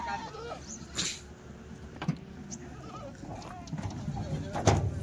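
Several Kathiawari goats give faint, scattered bleats while being unloaded from a truck, set against low outdoor noise with people talking nearby.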